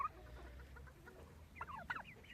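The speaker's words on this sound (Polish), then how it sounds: "Tu jest śliczny kogut z podkarpackich." Soft clucking from a Podkarpacie rooster with a few short chirpy bird calls, fairly quiet over a low steady background hum.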